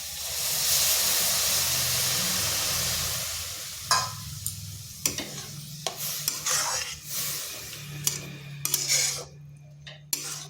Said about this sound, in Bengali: গাজরটা হালকা ভেজে নিয়েছি, দেখুন এর জলটা শুকনো হয়ে গেছে। এরপর এখানে দিয়ে দিচ্ছি দুধ।